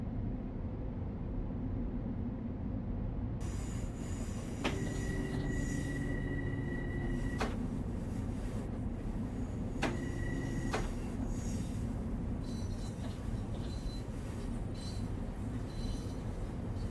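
A commuter train on the Harlem Line in Train Sim World 2 rumbles steadily with a constant low drone, joined by two brief high squealing tones partway through.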